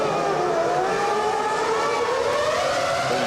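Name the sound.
Formula 1 cars accelerating at race start, 2001 Malaysian Grand Prix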